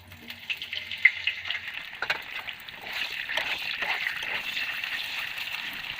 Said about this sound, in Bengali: ফুলকপিটা সেদ্ধ আছে তাই বেশি ভাজবো না, হালকা ভেজে উঠিয়ে নেব